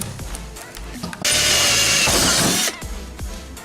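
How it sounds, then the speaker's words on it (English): A power drill whines loudly for about a second and a half, grinding into metal while fitting a knife's bone handle, set between quieter clicks and handling noises. "these can take a little while to drill through metal"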